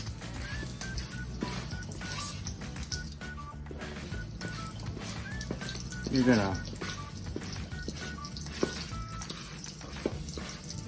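Water is splashed a little at a time into beignet batter while it is mixed, giving soft wet sloshing and squishing under a person speaking.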